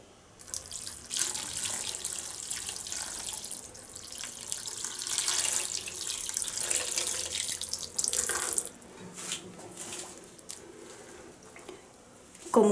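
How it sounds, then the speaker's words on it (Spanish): Clean water runs from a tap into a basin to rinse knitted garments, a steady splashing gush that surges and eases, with a brief pause, drips and sloshing near the end. "Y ahora agregamos agua limpia para enjuagar."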